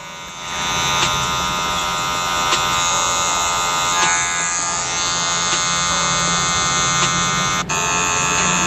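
Electric hair clippers buzz steadily and close up while cutting a men's fade haircut, using the corners of the blade, a continuous high hum with faint shifts as the blade moves through hair.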